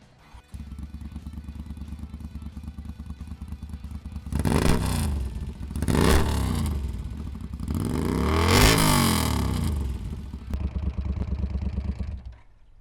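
A custom Billet-Proof motorcycle is started up outdoors, its engine idling with a steady throb and then revving loudly in several swells before settling back to a rumbling idle, heard close up with no talking.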